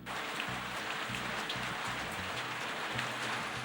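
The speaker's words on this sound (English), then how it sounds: "Rain." Steady rain falls on a morning hunting trip, a continuous even hiss of drops with no voices.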